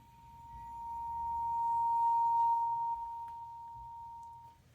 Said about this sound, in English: I'm going to bow it a couple different times just on the direct edge